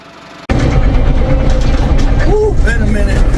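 A John Deere tractor engine with a turbo, freshly fitted with a home-repaired exhaust, starts up abruptly and runs in a loud, close, continuous rumble.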